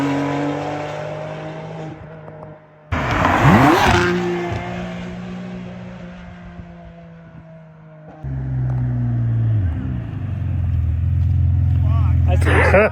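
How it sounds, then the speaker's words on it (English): Ferrari 599 V12 with a Capristo exhaust, converted to a 6-speed manual, revs loudly, with engine tones rising and falling, sharp bursts, and a near pass, while people talk in between. "It sounds a lot better from the outside."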